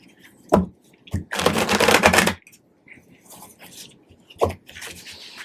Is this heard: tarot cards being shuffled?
yes